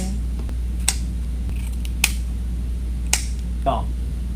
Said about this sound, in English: let's trim our ribbon.